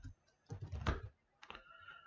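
Soft, quick keystrokes tap on a computer keyboard as a command is typed, one cluster of clicks followed by a short pause and a few more taps, faint and close.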